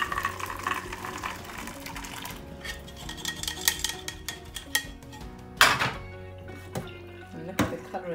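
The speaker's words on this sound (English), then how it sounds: "I'm just going to be draining them out." Simmered pumpkin seeds being drained in a kitchen, with metal pot and utensil clinks, a splash of pouring water, and a couple of sharp clanks standing out near the end.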